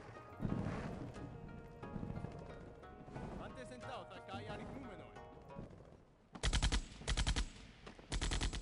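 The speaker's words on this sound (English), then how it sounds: "Machine gun battle." Machine gun battle in Civilization IV: the first stretch is busy and mixed, then rapid bursts of automatic gunfire hammer out near and loud, with brief gaps between volleys.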